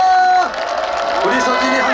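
A festival crowd at the Mapo Naru shrimp-sauce festival cheers and applauds for a singer, loud whoops and clapping blending with lingering music tones and a voice over the noise.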